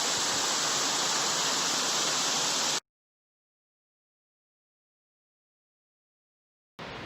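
A waterfall known as Cachoeira de Dona Luísa gives a loud, steady broadband rush of falling water for about three seconds, then cuts to silence before the roar briefly returns near the end.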